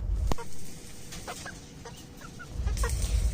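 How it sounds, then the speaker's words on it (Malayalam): Native chicks cluck and cheep in short scattered calls inside a closed backyard coop, with a low rumbling background throughout. "നമ്മുടെ നാടൻ കോഴിക്കുഞ്ഞുങ്ങളൊക്കെയാണ് ഇത്."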